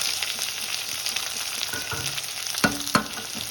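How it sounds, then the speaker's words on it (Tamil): Onions fry in a pan for idli upma with a steady, fine sizzle, while a couple of sharper clinks and scrapes of stirring stand out near the end. "இப்போ வெங்காயம் வந்து ரொம்பலாம் வதங்கணும், சுத்தமாக வதங்கணும்."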